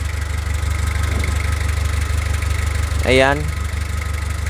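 A hot car engine with a hard-starting problem idles at a steady low rumble, close and continuous, while someone speaks briefly over it.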